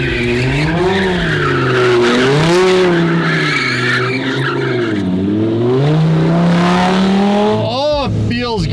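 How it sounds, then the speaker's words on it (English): A Lamborghini Murcielago with a manual shifter drives loudly, its engine note rising and falling through gear changes with a sharp rev sweep near the end, heard close and continuous. "Oh, it feels good to be back in the Murcielago. That manual shifter."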